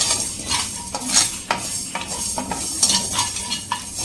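Cumin seeds being stirred into a pan for mango pickle, a scraping, lightly sizzling stir with irregular utensil strokes against the pan, close and steady, with no voices.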